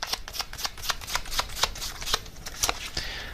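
Tarot cards being shuffled by hand, a run of crisp riffling flutters and soft slaps repeating steadily, close up and with no speech.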